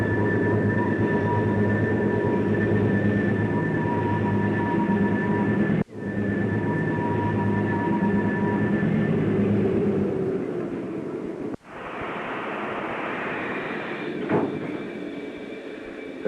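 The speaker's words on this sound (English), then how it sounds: "the sound of the air brakes being maneuvered while the train is brought to a halt at this point" Air brakes on a Columbia & Western Railway train in 1966 hiss and sigh as it is brought to a halt, a steady rumbling wash with faint tonal whines and sudden releases breaking the drone.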